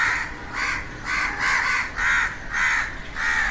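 Cartoon crow cawing in a steady series of about seven loud, harsh caws, evenly spaced and close, with no talk over them.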